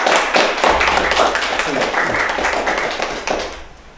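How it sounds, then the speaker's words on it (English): A group claps hands together at a folk story and music gathering, with steady overlapping claps filling the room at close range and fading slightly toward the end. "we can clap again so that you all understand that we're enjoying it"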